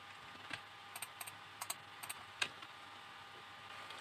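A git command is tapped out on a computer keyboard: a short, irregular run of about a dozen quiet key clicks heard alone against a faint room hum.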